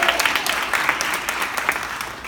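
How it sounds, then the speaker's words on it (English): A stand-up comedy crowd applauds loudly for a recently engaged colleague in the audience. The clapping is dense and continuous for about two seconds, then tapers slightly at the end. "Let's give him a hand."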